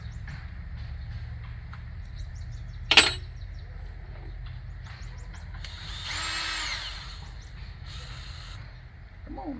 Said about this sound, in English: Take a teeny tiny drill bit, do a vent hole.